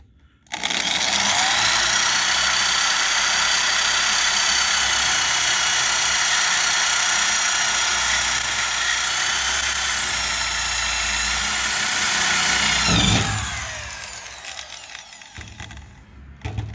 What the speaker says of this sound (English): So anyhow, I'm going to keep drilling.